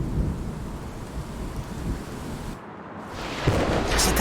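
Deep rolling thunder in a storm, a loud sustained rumble with rain and wind noise, a brief drop, then a sharp renewed crack near the end.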